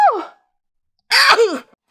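A woman sneezes nearby, a short breathy intake followed by a sharp burst after a brief pause.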